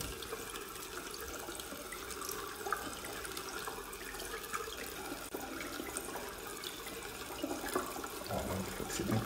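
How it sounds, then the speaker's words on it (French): Tap water runs steadily while a face soap mask is rinsed off, a continuous close splashing wash with a slight swell near the end and no talk. "C'est bien pénétré, il n'y a plus qu'à rincer."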